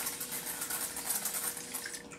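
Thermal water mist sprays onto a face in a soft, continuous hiss. It is fairly quiet and brief, with a few faint pulses within the spray, and no voice is heard.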